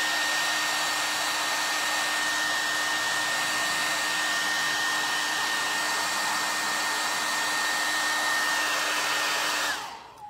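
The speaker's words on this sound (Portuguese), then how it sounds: "Secador." Hair dryer blowing a steady, loud broadband whoosh with a faint constant whine, used to dry paint on a craft wreath, running uninterrupted for about ten seconds before being switched off and winding down at the end.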